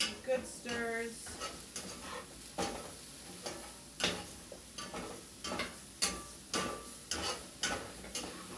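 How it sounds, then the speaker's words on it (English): Rice cakes with beef and greens stirred in a pan, a dozen or so sharp scraping and clacking strokes in a loose rhythm over a faint sizzle, close and alone. "some good stirs"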